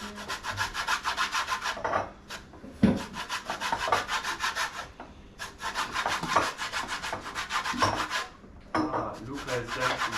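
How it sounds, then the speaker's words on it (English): Lemon being zested on a coarse grater, a steady rasping scrape in repeated strokes with short pauses between them, close and fairly loud. "Luca is zesting the lemon."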